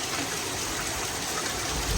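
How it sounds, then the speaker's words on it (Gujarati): Heavy rain driven by wind pours down in a constant dense roar, loud and close, without pause or voices. "પવન ને વરસાદ ફૂલ આવે"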